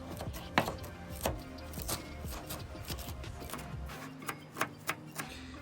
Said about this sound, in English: So, just chop it up real good.